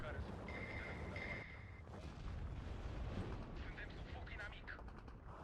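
Mortar rounds burst in a Steel Division 2 battle as a series of distant, muffled booms and rumbles arrive one after another, quiet overall beneath scattered game noise.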